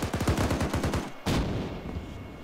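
Gunfire in the military video game Arma 3: a rapid automatic burst of about ten shots, then a pause and a single heavy blast whose roar trails off. Loud and close, with no talking.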